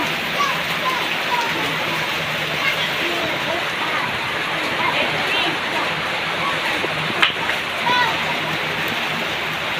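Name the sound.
heavy rain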